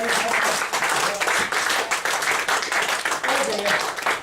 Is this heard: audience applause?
yes